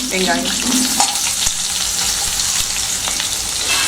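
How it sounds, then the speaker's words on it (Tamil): Onions sautéing in a pan with curry leaves, green chillies and urad dal for carrot rice, giving a steady close sizzle and frying hiss throughout, with a few soft stirring scrapes and no talking. "வெங்காயத்தை வெங்காயம் போட்டு நல்லா வதக்கியாச்சு."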